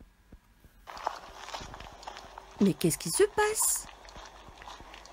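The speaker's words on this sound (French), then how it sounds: "D'abord, il y a un bruit de pas." Soft footsteps for a children's story sound effect tap faintly and irregularly over quiet background, then a voice asks a short question over a few louder bumps.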